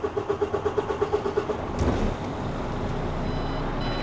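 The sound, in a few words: truck tractor engine starting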